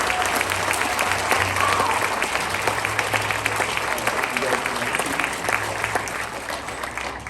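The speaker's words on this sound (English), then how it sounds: "Let's have a round of applause for these students." A school band concert audience claps for student musicians, a dense, sustained round of applause filling the hall at steady loudness before gradually thinning toward the end.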